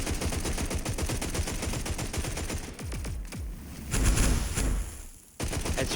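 Rapid bursts of gunfire from the VEKTR weapon in the shooter Hawked crackle in quick volleys, with a dense rattling stream broken by short pauses and heavier thumps near the end.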